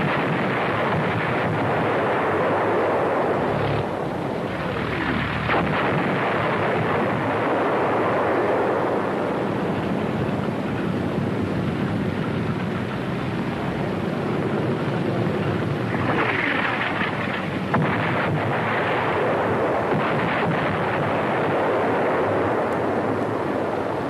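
Artillery shells fired at a military convoy on the move in wartime, heard as a continuous loud roar of booming blasts and rumbling wind-like noise, with a few sharper bursts standing out, and no talking.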